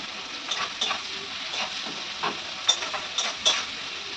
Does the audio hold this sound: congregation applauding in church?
no